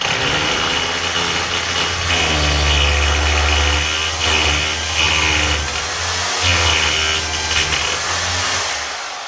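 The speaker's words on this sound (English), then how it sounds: "hold your batten against the wall, get your drill," A power drill bores through a wooden batten into an old cottage wall, a loud close whine and grinding that rises and falls in pitch as the bit bites, then eases off at the end.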